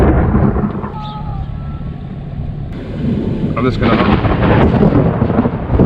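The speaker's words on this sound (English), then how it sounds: "there is a massive storm brewing. Look at that. Oh! Oh, that's crazy, the lightning." A massive thunderstorm with lightning and rising wind: low rumbling thunder swells under steady rain, and a person speaks briefly over it.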